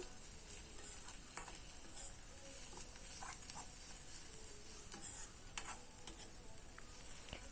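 Sliced onions frying in a pan for a night jasmine flower fry, giving a steady soft sizzle and hiss with scattered scraping stir strokes, close and fairly quiet.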